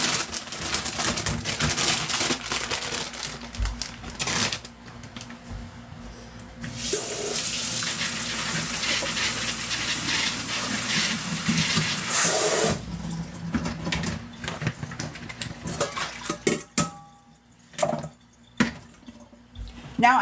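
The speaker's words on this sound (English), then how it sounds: "Wash some tomatoes." Tomatoes rinsed under a running kitchen tap, the water gushing steadily for several seconds in the middle, framed by quieter drips, splashes and handling noises before and after.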